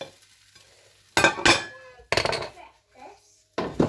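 Hash browns sizzle and scrape in a frying pan in three loud bursts as they are stirred and flipped, with quiet stretches between and a voice speaking briefly.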